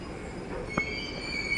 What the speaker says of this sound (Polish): Przyjechało metro.